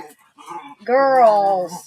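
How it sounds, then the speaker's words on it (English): Two female pet dogs playing indoors whine and yowl in a long drawn-out vocalization, close to the microphone, following a brief spoken word. "I'm sorry if you hear two of my girl dogs carrying on here."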